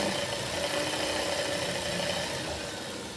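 Steady mechanical whir of a sewing machine stitching blouse fabric for a ruffle-sleeve blouse, a continuous close hum with a fine rapid rhythm and no talking.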